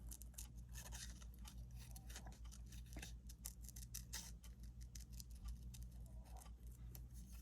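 Scissors make quiet, repeated snips as they cut paper around small specimen images for a junk journal card, with close, faint clicks in an irregular rhythm.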